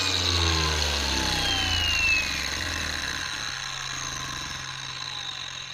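Metabo HPT 36V cordless angle grinder running close by with a harsh, buzzing whine, loudest at first, then winding down slowly as the motor spins to a stop.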